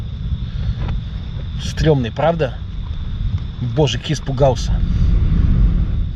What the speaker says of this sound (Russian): Такая струя воздуха тебя чуть не сметает